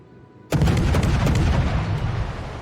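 Naval guns test-firing in a strategy video game: a sudden loud boom followed by a dense, sustained rumble of overlapping blasts and crackle that stays strong for over two seconds.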